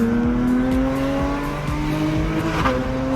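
Porsche 992 GT3 with an aftermarket FI exhaust driving, a loud continuous engine tone with rising and falling pitch as it pulls, heard up close with no talking.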